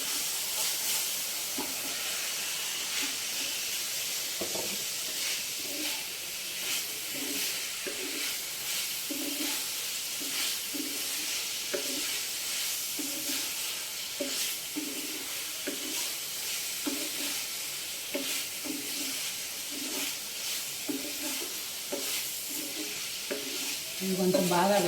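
Prawns marinated with coconut, poppy seed and pepper powder fry in a pan with a steady sizzle and hiss, stirred now and then with soft rhythmic scraping throughout.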